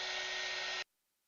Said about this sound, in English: now I will pull out the dryer